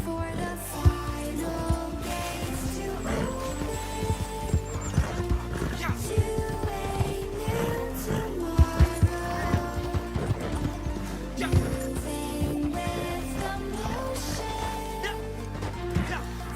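Foxtrotter horse in Red Dead Online, hooves clip-clopping in a loud, busy rhythm with a whinnying neigh and game effects layered over it, some faint voice in the mix.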